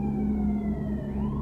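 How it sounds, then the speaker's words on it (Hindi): A steady siren tone holds over a low engine rumble, sounding fairly close and continuous, with a slight rise in pitch toward the end. "ये तो सायरन की आवाज है"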